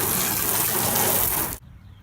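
Water from a hose rinses a car, a loud, close, steady gushing spray that cuts off abruptly near the end, leaving near quiet.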